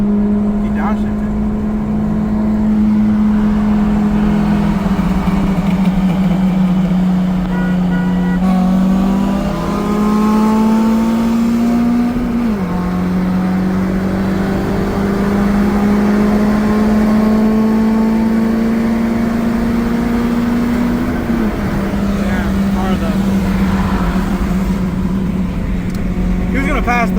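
From inside a car, a Ford Focus SVT races a Honda Civic Si. The engine drones loud and steady, its pitch climbing and then dropping sharply at the shifts, while people talk over it throughout.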